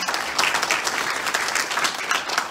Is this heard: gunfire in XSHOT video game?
no